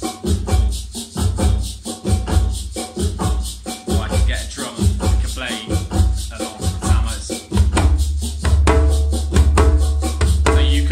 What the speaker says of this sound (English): there's a really nice bass drum sound that sounds like this